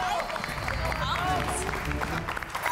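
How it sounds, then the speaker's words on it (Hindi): A studio audience at a sitcom award ceremony applauds with a dense, steady patter of clapping. It blends with crowd murmur and overlapping voices for the whole stretch. "तालियां तालियां भाई, तालियां"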